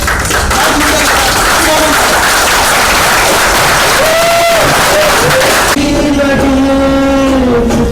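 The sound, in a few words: audience applause for the play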